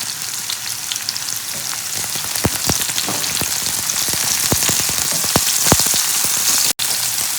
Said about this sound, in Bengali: গ্রিন চিলি আর অনিয়নটা ভাজা হতে হতে